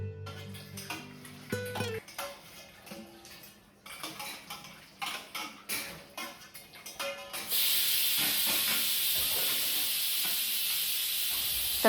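A pressure cooker of dal and rice on a home kitchen stove. Dishes and utensils clink first, then a loud, steady hiss of escaping steam takes over and runs on without a break.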